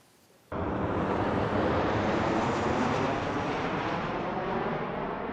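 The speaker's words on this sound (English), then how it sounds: "A line of more than 50 planes stacked up behind each other Sunday morning, all waiting to take off." Loud, steady roar of jet airliners idling and taxiing in a long queue of more than 50 planes waiting to take off at an airport, rising abruptly after a quiet start and holding as a broad continuous rumble.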